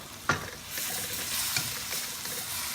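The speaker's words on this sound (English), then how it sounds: "fresh tomatoes. Let's saute this for 2 minutes." Fresh tomatoes sauteing in a pan for beef caldereta, giving a steady low sizzle with a couple of brief stirring scrapes and no talking.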